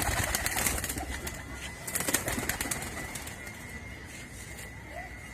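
Pigeons coo softly in a noisy outdoor setting, with occasional flutters of wings and a steady background hum.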